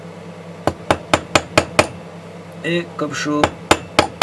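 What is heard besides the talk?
hammer flattening a metal piece for a turquoise pendant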